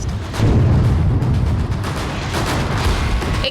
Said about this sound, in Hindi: देखिए 5, 4, 3, 2, 1 और जोरदार ब्लास्ट।